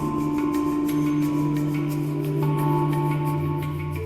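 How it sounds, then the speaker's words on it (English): Steady tonal sounds with a hum-like drone play through a spatial audio game engine demo with early reflections and late reverberation, giving a continuous, evenly loud roomy wash with no talking. "Combined with late reverberation, it sounds like this."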